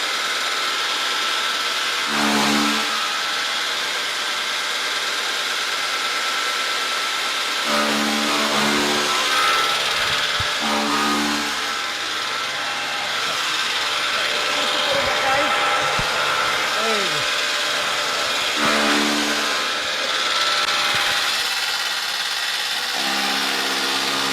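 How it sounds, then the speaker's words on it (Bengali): A motorised grass and straw chopping machine runs loud and steady, with a continuous mechanical roar broken by periodic rhythmic thumps as material is fed, and faint voices underneath. "ন্যান মেশিন চালু করেন ইনশাল্লাহ চালু করছি"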